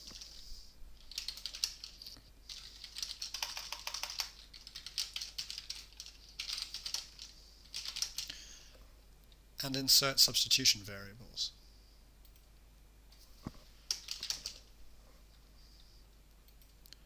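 Computer keyboard typing sounds in quick irregular bursts of clicks, close and soft, with a brief louder clatter midway, under a narrating voice.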